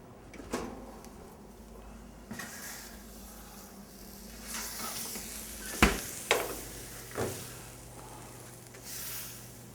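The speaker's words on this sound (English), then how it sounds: "The fish is ready to come out of the oven and we're going to finish the dish" Fish with a mousse topping comes out of a home oven: a soft background hiss and faint sizzle, then a few sharp clanks and knocks of a door or metal tray, isolated and close, with no talking.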